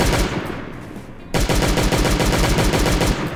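Rapid automatic gunfire in the zombie survival game Last Day on Earth: a steady stream of loud, close shots that breaks briefly and then resumes as a dense, even burst with no talking.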